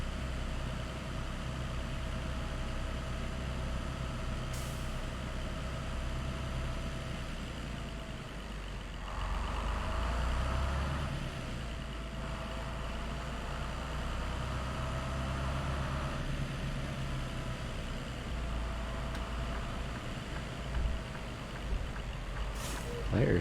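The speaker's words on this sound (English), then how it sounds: "The truck occasionally makes me think like the engine brake is on." Truck engine in American Truck Simulator, a continuous low rumbling drone with occasional brief hisses and a mid-clip swell, steady and moderately loud without talk.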